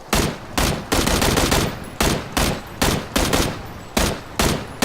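Rapid bursts of gunfire from the battle royale video game PUBG, a dozen loud broadband shots in an uneven, clustered rhythm, close and dominant with no talk over them.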